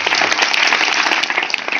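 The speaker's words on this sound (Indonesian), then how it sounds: "Oke, tepuk tangan untuk semuanya" Brief, loud burst of applause for everyone at a Hindu temple ceremony for Ngebak Geni with the Nganjuk regent, dense clapping filling the short moment without pause.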